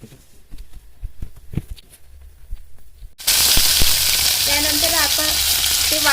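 Ginger garlic paste dropped into hot oil for a spicy green pea and country chicken curry, bursting into a loud, steady sizzle after a few quiet stirring knocks.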